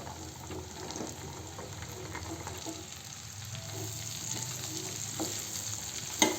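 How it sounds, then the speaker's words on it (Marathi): Okra added to cooked onions and tomatoes frying in a pan for besan bhindi, a steady close hiss and crackle with occasional stirring scrapes and a sharp knock at the end. "आपले कांदे टमाटर शिजलेले आहे आता भेंडी घालू"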